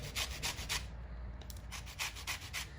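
Lemons are zested on a grater in quick, close rasping strokes, several in a row, then a brief pause and another burst of scraping, fairly quiet with no talking.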